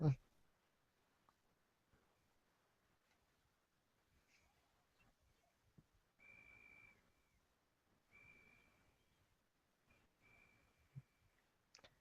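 A whistle sounds in three sustained, clear blasts separated by short pauses, moderately loud against a quiet room with scattered clicks and a brief sharp noise at the start.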